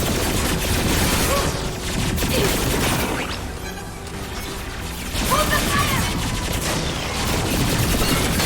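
Gunfire in a Mass Effect 2 firefight on hardcore difficulty, with dense overlapping shots and crashes that hold steady and loud throughout, dipping briefly in the middle, under intermittent squad voices and radio callouts.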